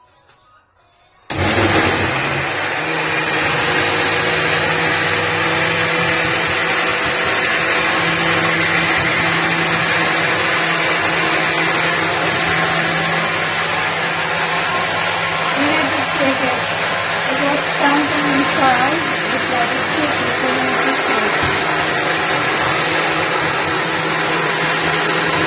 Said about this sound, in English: I'm gonna blend this one